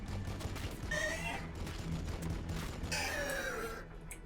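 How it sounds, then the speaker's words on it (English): Battle sounds from the Warhammer 40K Battlesector video game: steady rattling gunfire under a constant low rumble, with a couple of brief high whining effects, continuous and moderately loud. "Firing on the enemy."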